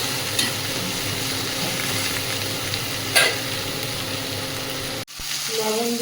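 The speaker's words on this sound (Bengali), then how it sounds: "এবার কেটে রাখা ঝিঙে আর ভেন্ডিটা দিয়ে দেব" Ridge gourd and okra sizzle in a wok with tomato, ginger and onion, a steady hiss with a few stirring scrapes, briefly cut off near the end before resuming. Faint voice in the background.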